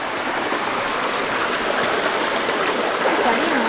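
A mountain stream in Zoldo Alto running high with snowmelt, a loud, steady close rush of water tumbling over rocks, with faint voices blended into the flow.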